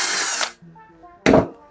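Power drill or driver backing screws out of the back cover of a Scotsman ice machine, two loud whirring bursts separated by a quiet gap, close up with no talking.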